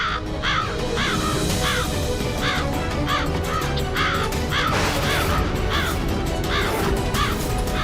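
A crow that has snatched a SIM card caws repeatedly and loudly close by. The harsh calls come in a steady rhythm over a busy background hum.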